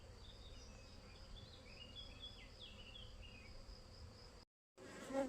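Honeybees at an open hive make a soft, steady, droning buzz that holds evenly for several seconds, faint and alone, then cuts out briefly before a louder burst.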